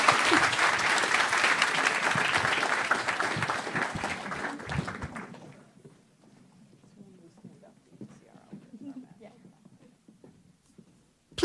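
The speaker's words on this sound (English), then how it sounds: "let's give them a round of applause" Audience applause for panelists at a media industry conference fills the first five seconds loudly, then fades into scattered claps and low room murmur.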